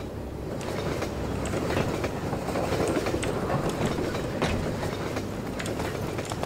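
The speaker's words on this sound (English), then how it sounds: "I had to be crushed by the oncoming train" A train rumbles past in Half-Life 2, with rhythmic clickety-clack from the wheels and rattling cars, loud and continuous throughout.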